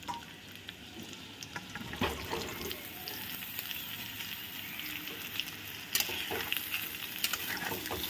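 Mango pieces for a sweet mango pickle are stirred into hot spiced oil, a continuous close sizzle and wet stirring with a couple of sharper bursts of crackle.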